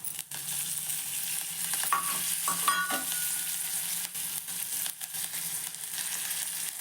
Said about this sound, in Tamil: இப்போ கருவேப்பிலை சேர்க்குறேன்.